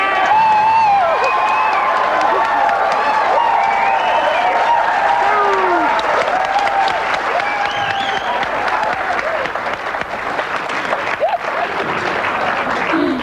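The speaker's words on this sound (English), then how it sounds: "Please, with a round of applause, cheers and jeers, if you think Mikey's team should win" A television comedy studio audience claps and cheers for a team, producing loud, continuous applause with whoops and shouting voices riding over it. The sound holds steady and dense for the full length.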